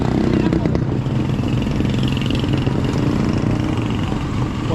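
A motorcycle engine idles steadily and close by at a busy night market, a continuous low rumble with clatter and background chatter throughout.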